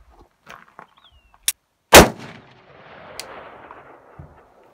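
A .40 S&W pistol fires 135-grain Nosler jacketed hollow-point rounds: one loud, sharp gunshot with a ringing outdoor tail, preceded by a faint crack and small clicks.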